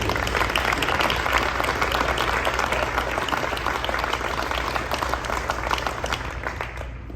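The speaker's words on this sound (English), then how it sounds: "So big round of applause for those sponsors." Audience at a homecoming event applauding sponsors, a dense, sustained roar of clapping from a large crowd, loud and continuous throughout.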